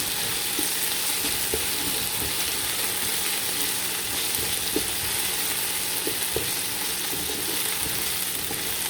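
Garlic and ginger paste sizzling steadily in a hot pan, with a constant frying hiss and occasional light scraping clicks from stirring, close and moderately loud.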